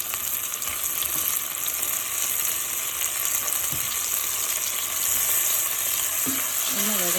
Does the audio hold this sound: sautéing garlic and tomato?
yes